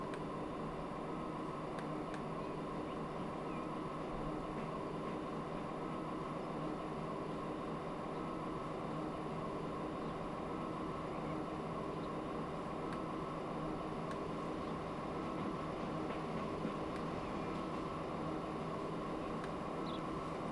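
A freight train rolls along inside the railway sim Transport Fever 2, a steady, unbroken rumble and hiss that runs at an even level throughout with no talk over it.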